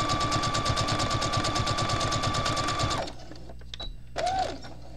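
A sewing machine stitches steadily forward and back along the tucked edge of a fabric scrunchie, its loud rapid needle rhythm running for about three seconds before stopping, followed by a few quieter clicks and handling noises.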